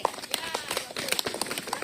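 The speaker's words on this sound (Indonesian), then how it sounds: "Oke, tepuk tangan lagi" Classroom audience of students clapping after a reading at a junior high school readathon, a short, fairly faint patter of claps with voices murmuring underneath.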